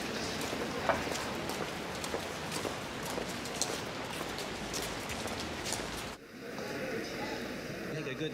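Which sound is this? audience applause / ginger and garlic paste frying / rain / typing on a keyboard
rain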